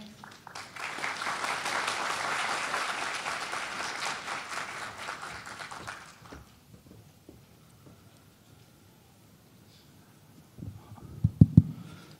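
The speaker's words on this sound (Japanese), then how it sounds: "皆様盛大な拍手でお迎えください" An audience at a conference talk applauds steadily for about six seconds, then the clapping fades out into a quiet room with faint movement and a few soft knocks.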